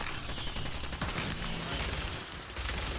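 A minigun in Fallout 4 fires in a long, rapid burst, a dense mechanical rattle of closely packed shots that briefly falters before resuming loud and continuous.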